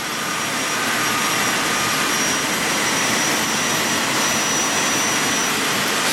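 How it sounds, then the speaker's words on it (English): A heat gun warming vinyl lettering on the body of a 1992 Ford E-350 service van, giving a steady, loud, close-up blowing whoosh that holds constant for several seconds. "I'm warming the whole sticker up"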